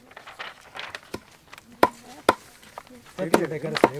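Sharp knife chops strike a board in an uneven rhythm, with quiet voices talking in between and under the cutting.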